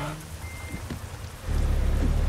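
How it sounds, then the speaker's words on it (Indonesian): Rain pouring steadily, a broadband hiss that grows noticeably louder and denser partway through, with a few low thumps early on and no voices. "Ini lagi hujan, licin."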